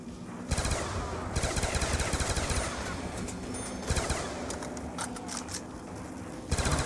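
In a Black Ops 2 match on a city map, a Galil rifle fires in long, rapid automatic bursts with brief gaps between them, close and sharp amid game noise.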